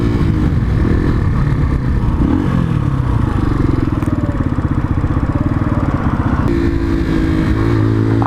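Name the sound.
125cc motorcycle put into gear and riding off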